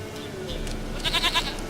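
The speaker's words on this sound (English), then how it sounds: "Here, goat." A goat bleats in The Witcher 3, a few short wavering calls close by over a steady game ambience and soft background music.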